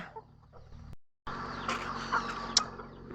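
Chickens cluck close by, with short throaty calls and a sharper squawk near the end over a low steady background hum.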